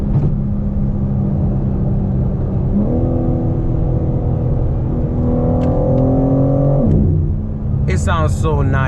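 A 2022 BMW M4 Competition engine revs and shifts through rising tones during a night drive, ending with crackling exhaust pops and burbles, with someone talking over the steady roar.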